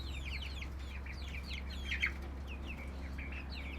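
A flock of around thirty backyard chickens clucking and chirping in short repeated calls at moderate distance over a steady low hum, no talk.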